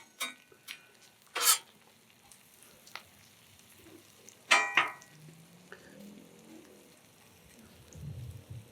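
Butter and onion fry on a Blackstone griddle with quiet crackling sizzle, broken by a few sharp pops and scraping clicks, soft and close.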